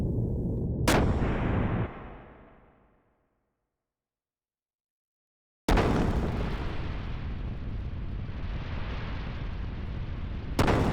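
A warship's gun blast in the video game Xenogears, a loud booming roar that fades into silence, then another heavy sustained blast that rumbles on until a sharp crack at the end.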